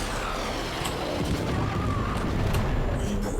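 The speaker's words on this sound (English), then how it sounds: "So you can see like the big explosions that are happening" Big explosions set off by the Tether ability in the Warframe video game: a dense, continuous rumbling barrage of booms and blasts, loud and close, with scattered sharper cracks through it.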